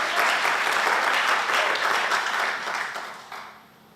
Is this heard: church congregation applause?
yes